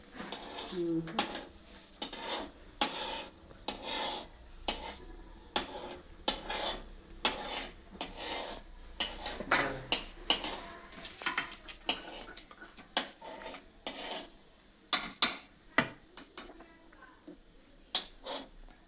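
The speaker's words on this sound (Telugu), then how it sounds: "ఇంకా కొద్దిగా మనం దీన్ని తిప్పుకోవాలి తాలింపు గింజల్ని" Tempering seeds being stirred in a pan with a spoon, giving repeated scraping and clinking strokes over a soft sizzle, fairly close and steady throughout with occasional louder knocks.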